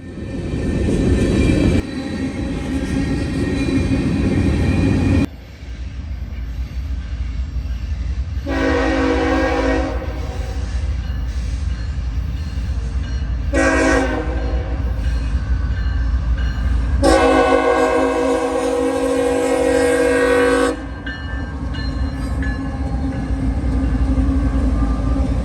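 A CSX southbound manifest freight train rolls past on the Toledo Subdivision, its loud horn sounding in several long blasts over the steady rumble of wheels and cars, with no voices.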